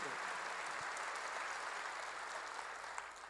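A church congregation claps together during a sermon, giving a dense, even patter of many hands that sounds somewhat distant and holds steady before easing slightly near the end.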